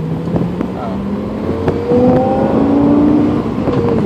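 Lexus LFA accelerating from inside the cabin, engine tone rising in pitch then dropping at an upshift and climbing again, loud and close, with talking over it.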